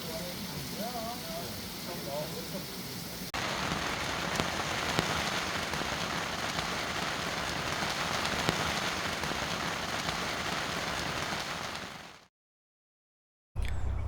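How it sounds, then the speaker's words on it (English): Heavy rain pours down at night, a dense, steady hiss of drops drumming on surfaces that thickens partway through, then cuts out briefly before resuming; a voice is faintly audible early on. "the heavens opened up and it absolutely poured the whole"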